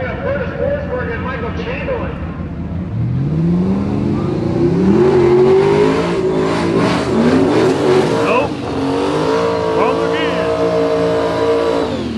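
Drag racing cars, a turbocharged entry against a ProCharger-equipped one, roar loudly as engines rise in pitch through hard acceleration, with a sharp engine sweep near the end and voices talking over the din.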